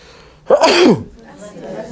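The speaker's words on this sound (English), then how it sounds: "It's just a sneeze." A single loud sneeze bursts out, sharp and close, followed by a quieter murmur of background noise.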